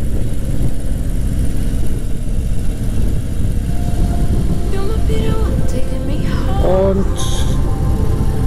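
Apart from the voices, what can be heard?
car engine while driving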